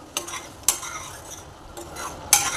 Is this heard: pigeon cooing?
no